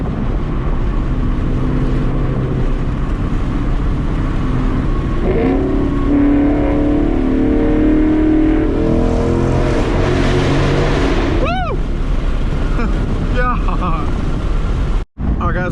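A tuned Ford Mustang GT cruising with a steady, loud engine drone and road roar, swelling briefly in the middle, while a voice talks over it.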